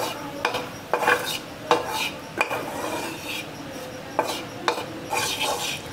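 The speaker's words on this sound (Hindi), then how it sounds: "ये मैं इसमें मैदा ऐड कर रही हूँ और अब हम इसे अच्छे से चलाएंगे" A spoon scrapes and stirs flour into melted butter in a pan for tomato soup, giving a series of close, sharp clinks and rubbing strokes at an irregular rhythm, with no talking.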